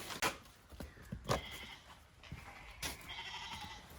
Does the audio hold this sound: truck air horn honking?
no